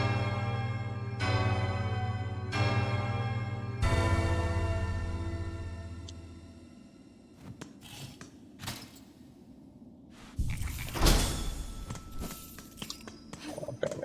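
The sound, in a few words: bell ringing in video game Hollow Knight: Silksong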